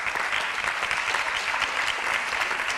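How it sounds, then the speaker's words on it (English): Steady, full applause from an audience at an evening talk on the 2018 midterm elections, a dense wash of many hands clapping without pause. "Can we also have a big round of applause for the Office of Alumni Relations and the Project Continuum team?"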